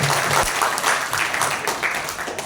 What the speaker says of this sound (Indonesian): Tepuk tangan untuk yang ketiga.